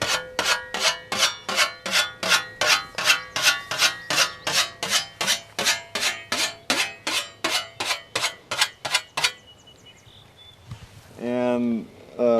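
A scythe blade being honed with a whetstone to remove the burr: about twenty quick, rhythmic rasping strokes, close and loud, followed by a brief pause and a short burst of speech.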